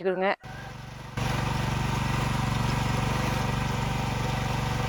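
A Sharp Garuda GH 100P power weeder engine working an intercropped farm plot; after a brief voice at the start, a loud, steady mechanical drone runs without a break to the end.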